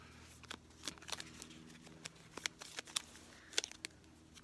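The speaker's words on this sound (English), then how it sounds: "I'm shuffling, I'm pulling your cards right now." An angel oracle card deck is shuffled outdoors, giving a quick run of soft, papery riffles and taps, close and fairly quiet, with no talking.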